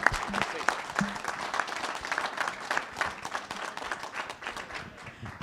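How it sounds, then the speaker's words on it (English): An audience at a student auctioneering college auction claps and applauds continuously, a dense patter of many hands held at a steady level, with voices faintly mixed in. "how about a round of applause for Susie Addis"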